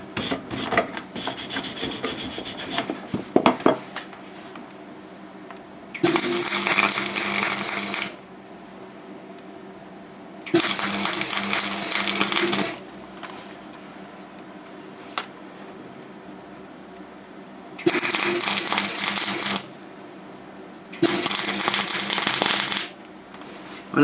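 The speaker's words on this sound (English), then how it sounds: "And it doesn't even sound very nice, but it ain't half welding well." Welding nuts together for a motorcycle bash plate, with bursts of crackling, sizzling arc noise a few seconds long separated by quieter pauses, heard close up and alone.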